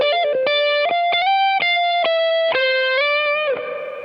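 An electric guitar played through a Line 6 AM-4 amp modeler set to an old-school rock tone rings out alone in a loud, sustained run of distinct notes that hold and slide before fading slightly at the end.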